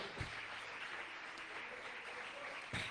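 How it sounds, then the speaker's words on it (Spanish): Church congregation giving a strong round of applause to the King of Glory, continuous dense clapping from many people throughout, with a sharper burst near the end. "¿Cuántos pueden darle fuerte ese aplauso al Rey de la Gloria?"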